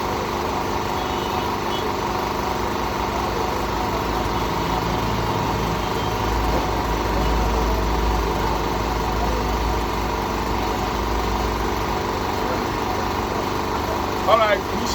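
Window air conditioner compressor running, a steady close mechanical hum with low vibration that continues unbroken, followed by a brief clatter near the end.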